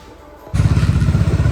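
Motorcycle on a mountain ride toward Bomla Pass near Tawang: a quiet stretch, then a loud, close engine roar kicks in around midway and holds steady with a throbbing low rumble.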